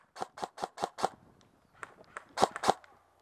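Airsoft gunfire during an outdoor skirmish game in Padasjoki: a quick run of five sharp cracks, then a short pause and several more scattered shots, close and crisp.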